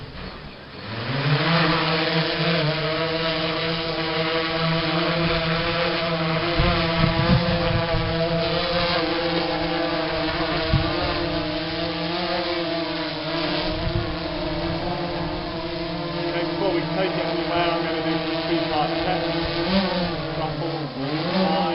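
A UAV drone lifts off for seabird research, its rotors holding a loud, steady buzzing whine with strong harmonic tones that rises slightly in pitch near the end, close by and continuous for the whole stretch.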